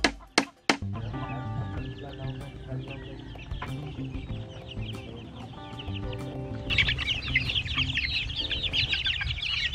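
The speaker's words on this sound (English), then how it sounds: "These are the first batch of our native chicks." Native chicks cluck and peep continuously on a farm, a soft busy chorus of small bird calls that grows brighter near the end, with a few sharp knocks at the start.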